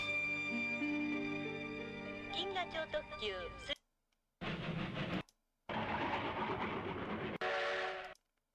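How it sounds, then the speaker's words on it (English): Video game cutscene trains: a sustained whistle or horn with shifting tones, then bursts of rumbling rail noise and clatter broken by short silences, loud and close. "this is basically all the cutscenes for where there's a train involved in the series"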